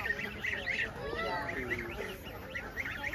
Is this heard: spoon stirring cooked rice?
no